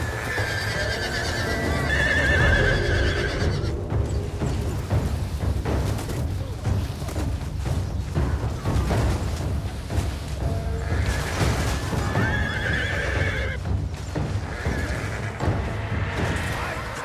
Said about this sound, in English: Horse archers rode around the perimeter of the Hungarian camp, releasing continuous volleys of arrows into the packed defenders